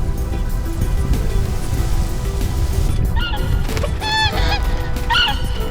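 Migratory waterbirds, geese among them, honk in reeds and mudflats. Several clear, nasal calls ring out in the second half over a steady wash of rain-like background noise, with no talking.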